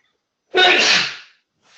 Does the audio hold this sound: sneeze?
yes